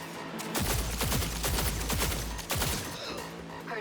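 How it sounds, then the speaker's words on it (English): Gunshots in Cyberpunk 2077 crackle in a rapid, dense volley, a sustained burst of overlapping shots with a deep low rumble under them, loud and close, fading slightly after a second flurry. "Heard shots."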